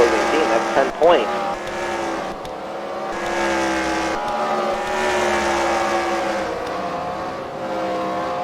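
Race car engines rev hard and hold a high, harmonic drone through the turns at the Freedom Factory, continuous and fairly close, with pitch rising and falling as the cars accelerate and an announcer talking over the noise.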